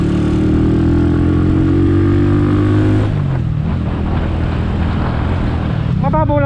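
A Skygo Earl 150 motorcycle with a CG 150 engine and an upgraded 28mm carburetor is ridden on the road, its steady droning engine tone holding, then dropping and shifting partway through beneath wind noise.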